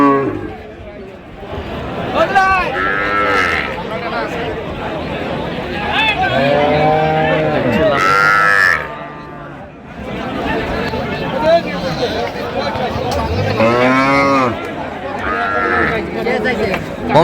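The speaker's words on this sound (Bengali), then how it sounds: "সুন্দর কোয়ালিটির একটি গাভী বাছুর দেখছেন ভাই" Loud, drawn-out moos and bleating calls from cows and calves nearby at a cattle market in Mymensingh, Bangladesh, repeating over a busy background of people chattering.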